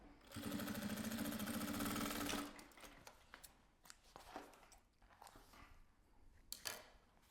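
A sewing machine stitches a seam in a fast, steady buzzing run for about two seconds, then stops, followed by soft handling clicks and fabric rustling.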